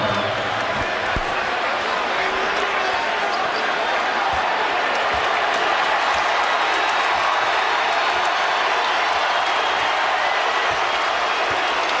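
Arena crowd in a Lakers vs Raptors basketball game applauding Kobe Bryant's 81-point performance, a loud, sustained wash of clapping and cheering that fills the whole stretch, with ball bounces and a commentator's voice faintly underneath.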